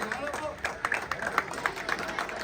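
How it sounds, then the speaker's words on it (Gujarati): Applause welcoming Dilipbhai at a Navratri event in Vikhroli, a crowd clapping in a brisk, uneven patter at moderate loudness, with a voice over the clapping. "દિલીપભાઈને જોરદાર તાળીઓથી વધાવજો ભાઈ"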